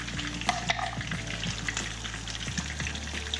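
Crappie fish sizzle as they fry in a pan for Thai chili sauce, a steady crackling hiss with occasional stirring clatter and a constant low hum beneath.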